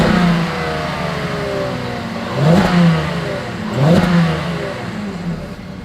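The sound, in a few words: exhaust sound of 2021 Volkswagen Atlas engine revving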